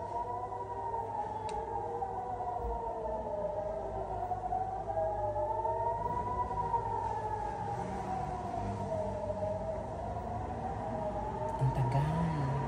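An air raid siren in Jerusalem wails long, rising and falling steadily, sounding continuously over a low background rumble, with a brief clatter near the end.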